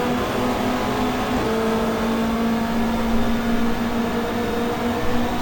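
Racing car engines from a 1995 Australian Super Touring Championship race at Calder Park in the GTR2 video game, BMWs among a close pack, drone steadily and loudly with sustained engine tones throughout, no talk.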